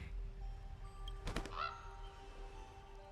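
Brief bird call in a fantasy video game, a short honking burst in the middle of a quiet ambient background with a faint steady tone underneath.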